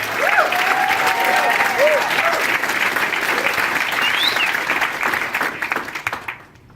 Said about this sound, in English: We get a round of applause for Theresa